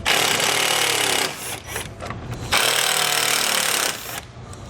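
A power driver whirs in two sustained bursts, removing T30 screws from the top of the grille on a 2017 Ford Expedition, with a short pause of lighter rattling between them.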